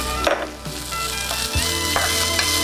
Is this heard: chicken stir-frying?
yes